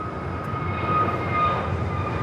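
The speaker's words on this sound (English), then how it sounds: "taking off to Dallas-Fort Worth on the A321neo" An American Airlines Airbus A321neo takes off with a continuous, even jet engine rumble and hiss, steady and moderately loud with no voices.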